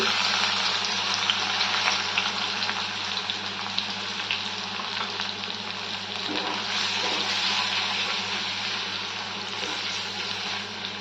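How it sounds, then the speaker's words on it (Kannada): Crushed ginger and garlic, not ground to a paste, fry in hot oil for a seashell fry, giving a loud, continuous, close sizzle with bubbling crackle throughout. "ಈಗ ಶುಂಠಿ ಬೆಳ್ಳುಳ್ಳಿನ ಸುಮ್ಮನೆ ಜಸ್ಟ್ ಜಜ್ಕೊಂಡಿದ್ದೀನಿ, ಪೇಸ್ಟ್ ಥರ ಮಾಡಿಲ್ಲ, ಅದನ್ನು ಹಾಕ್ತಾಯಿದ್ದೀನಿ."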